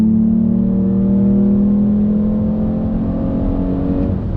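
A Toyota Camry engine accelerates steadily from 40 with a slow downshift, its loud drone rising slowly in pitch over several seconds with no talking.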